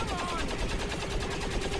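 Rapid, sustained bursts of heavy beam cannon fire from a soldier in XCOM 2, a dense, steady crackling volley running close and loud throughout.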